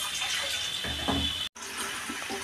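Water runs steadily into a pot from a tap, a continuous close splashing fill for heating, with a brief break partway through.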